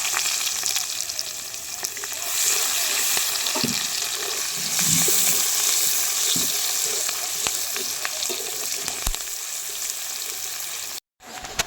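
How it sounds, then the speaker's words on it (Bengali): Chopped onions sizzle and crackle in hot oil with a bay leaf and dried red chili, a steady frying hiss with occasional stirring scrapes and no talk. "আমি তেজপাতা আর শুকনো লঙ্কা ফোড়নে দিয়ে দেবো। পেঁয়াজ দিয়ে দিচ্ছি।"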